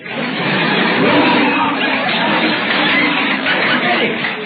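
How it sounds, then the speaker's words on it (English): An old-time radio studio audience booing and jeering, a loud sustained crowd roar of many voices, muffled and narrow in tone. "Betty, listen to those people booing"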